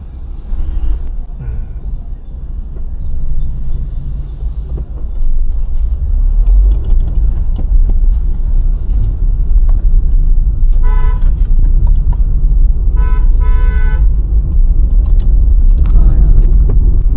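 Traffic jammed at a highway toll plaza near Ambala, with a loud steady rumble of idling vehicles and two clusters of short, repeated horn toots from nearby cars.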